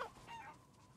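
A chicken in the Resident Evil Village game gives a short, faint cluck, a single brief call fading quickly into quiet background.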